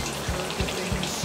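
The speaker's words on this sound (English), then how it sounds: "It's been 7 minutes frying in low flame." Bread toast frying in oil over a low flame gives a steady, soft sizzle with faint popping crackles throughout, close and moderately quiet, with no talking.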